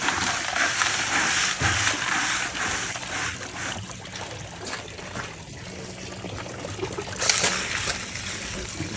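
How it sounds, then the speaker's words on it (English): Pebble-dash stones rattle and grind in a bucket shaken with water, a continuous gritty crunching and sloshing that swells and eases across the clip, fairly close, with no talk. "Shall I pick that bucket up and give it a shake?"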